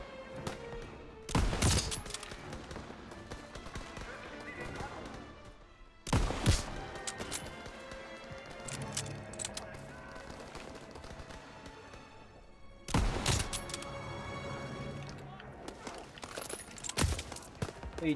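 Call of Duty: WWII gunfire erupts in several loud bursts, sharp shots and rapid volleys separated by quieter stretches of rumbling background action.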